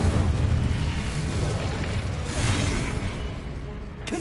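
Incendio fire spell cast in Hogwarts Legacy, a loud sustained roaring burst of flames with rumbling booms that holds steady for several seconds before easing off.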